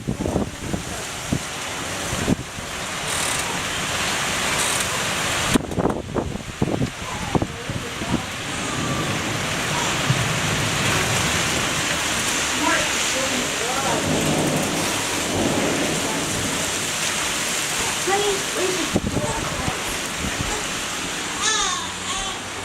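A thunderstorm with steady heavy rain and gusting wind, thunder rumbling and cracking now and then through the downpour. Occasional voices are heard faintly under the storm.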